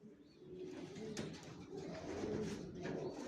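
Racer pigeons coo steadily in a close, continuous murmur of low throaty calls, layered with soft flapping and rustling in a loft with light background noise.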